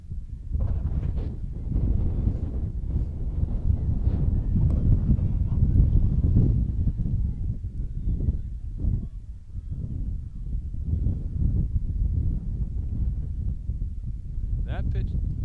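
Strong wind at a softball game rumbles low and continuously against the microphone, with faint voices now and then beneath the noise.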